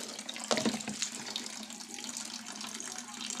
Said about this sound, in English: My free energy water pump,